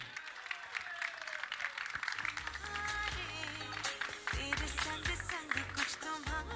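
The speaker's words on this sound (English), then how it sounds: "let's welcome, with the loudest cheer, Anjani Dhawan." An audience at a Bollywood film trailer launch event claps and cheers to welcome a debutant actress, dense steady applause mixed with loud event music and a presenter's voice.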